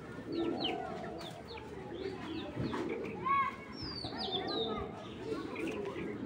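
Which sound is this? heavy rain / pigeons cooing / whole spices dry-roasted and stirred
pigeons cooing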